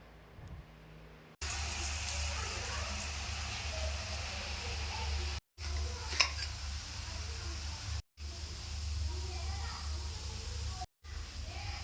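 Steady hissing and crackling of omapodi (gram flour dough) pressed into hot oil on low flame, a continuous sizzle broken by a few brief gaps.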